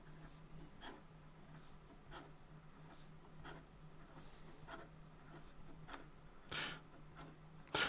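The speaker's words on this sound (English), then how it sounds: "some fast writing" A fine-nibbed pen scratches quickly across paper, faint and close, with a series of short rhythmic strokes and a couple of louder scrapes near the end.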